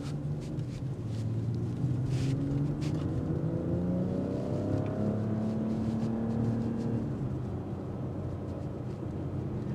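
A 2025 BMW X3 M50 accelerates on a test drive, its engine tone rising in a steady, continuous drone heard from inside the cabin, loud and unbroken with no talking.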